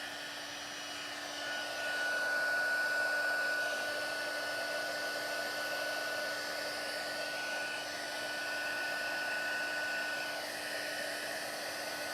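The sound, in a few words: craft heat tool blowing hot air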